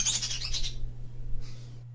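Bird chirping in high, bright bursts for the first part, then a brief fainter call, over a steady low hum.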